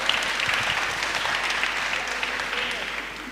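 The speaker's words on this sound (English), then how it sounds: "people are clapping" Many people applaud together at a church service for a healing testimony, a continuous even wash of clapping that holds steady and fades slightly toward the end, with no voices rising above it.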